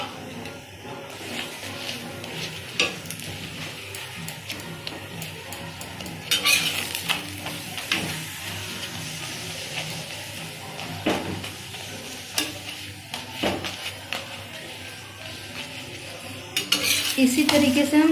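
An egg roll paratha cooks on an oiled pan, a steady sizzle of frying with repeated scraping and tapping of a utensil on the metal, several louder bursts of clatter spread through, and no talk.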